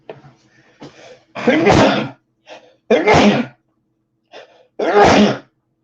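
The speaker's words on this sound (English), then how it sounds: "Oh my God, I'm going to sneeze." Three loud, close sneezes in a row, each preceded by short sharp breaths and small vocal catches, with quiet pauses between them.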